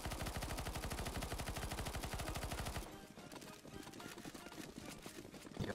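Video game gunfire in an online shooter, starting with a rapid, continuous automatic burst. It then breaks into irregular, scattered shots with muffled, rumbling action.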